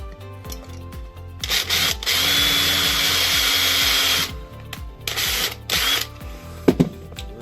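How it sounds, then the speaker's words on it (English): Power drill boring out an old bent rivet on a horsebox, with a rhythmic ratcheting grind under a steady whining bite that rises to a loud sustained drilling stretch, then stops and restarts briefly, close by. "drill that one off"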